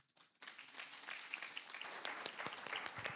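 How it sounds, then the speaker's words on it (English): Audience at a hybrid panel event on environmental stewardship breaks into applause for the facilitator and panelists, starting faintly and swelling into steady, moderately distant clapping. "So if we can give a round of applause to our facilitator and our panelists for their answer."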